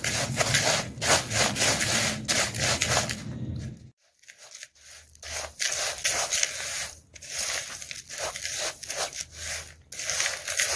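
Mukhwas ingredients, including betel nut pieces, cardamom powder and sugar-coated fennel seeds, are stirred together in a bowl with a dry scraping, rustling rattle, brief pauses between strokes.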